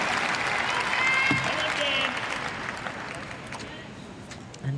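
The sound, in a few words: crowd cheering at Paralympic boccia final in Paris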